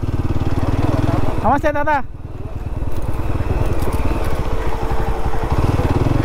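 A motorcycle engine runs steadily at idle close by, with a speaking voice briefly heard over its continuous low rumble.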